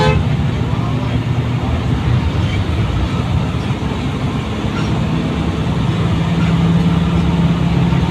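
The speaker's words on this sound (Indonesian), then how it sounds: "Pak sopir tidak lupa memberi kode bel ketika mau menyalip." A bus horn sounds before overtaking, over a constant rumble of engine and road noise inside a moving express bus.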